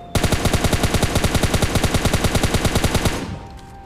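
Automatic gunfire in PUBG Lite blazes in a rapid, evenly spaced burst of about thirty loud close shots over three seconds, then stops and fades into a faint ringing tail.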